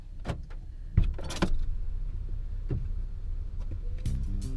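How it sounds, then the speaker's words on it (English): A car door opens and shuts as someone climbs into a parked car, with a few sharp thumps and rustles over steady engine idle and cabin noise. "Wait, I think somebody's actually getting in the car."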